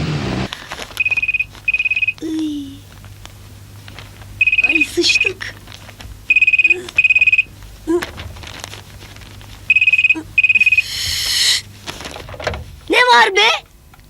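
Telephone ringing in repeated double trills, loud and close, with voices and other household sounds in between the rings.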